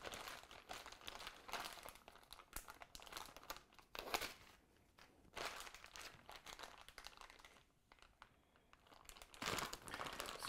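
A plastic two-gallon bag holding chicken and marinade is squeezed to push the air out, giving close, crisp crinkling in irregular bursts with short pauses between them.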